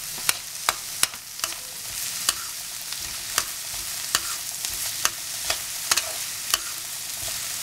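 Green beans stir-fried in a pan for vegetable kothu parotta, with a steady sizzle broken by repeated sharp spatula clacks against the pan at an even rhythm, close and clear with no talking.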